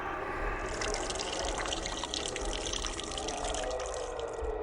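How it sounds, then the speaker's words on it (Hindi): Water runs from a tap in a steady, close splashing trickle, moderately quiet and unbroken, with no voices. "तभी अचानक नल से पानी निकला।"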